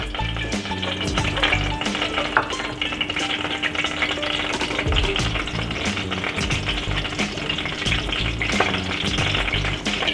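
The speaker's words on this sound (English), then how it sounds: "Just add oil. You can take 2 to 3 teaspoons here. I'm adding mustards." Mustard seeds sizzle and fry in 2 to 3 teaspoons of hot oil for a mango thokku, a steady dense crackle with scattered pops and stirring, close and continuous throughout.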